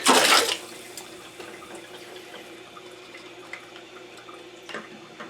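A water softener basin slowly filling, heard as a soft steady trickle with scattered faint drips, after a brief louder rush of water at the start.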